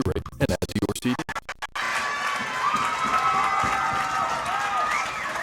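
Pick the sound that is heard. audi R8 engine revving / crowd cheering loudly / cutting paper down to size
crowd cheering loudly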